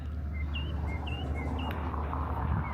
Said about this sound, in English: Love those chirping birds